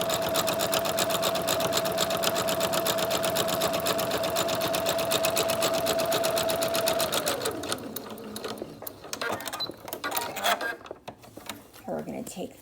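A sewing machine running a continuous top-stitch line across a fabric singer's mask, close and steady with a high whine, then stopping as softer handling clatter and a voice follow.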